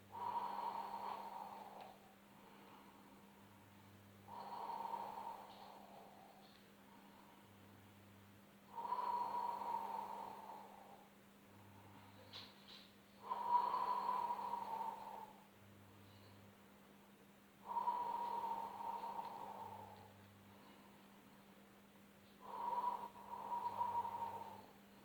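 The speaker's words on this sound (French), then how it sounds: "Inspirez, soufflez." Slow, controlled breaths repeat during a Pilates exercise, each a long airy exhale about every four to five seconds, fairly close and soft over a steady low background hum, with no talk.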